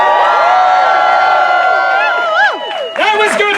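A theatre audience at a Shakespeare show cheers and shouts in a loud, continuous burst of overlapping voices and hoots that swells and dips, with rising whoops near the end.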